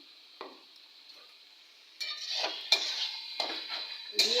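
Ground cumin and coriander stirred in a pan while cooking kochu shaak, with a utensil scraping and clinking against the metal in scattered light strokes, quiet at first and then busier and closer.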